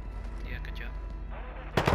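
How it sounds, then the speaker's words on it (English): Gunfire in Call of Duty: Modern Warfare II, set in Al Mazrah, rings out as a sharp, loud report near the end, preceded by a brief busy rumble of in-game sounds. "Taking effective fire."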